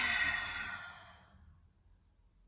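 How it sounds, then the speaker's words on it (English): An exhale during a yin yoga session, a soft breathy rush of air that starts fairly strong and fades away over about a second, leaving quiet room tone; no talking. "and exhaling out."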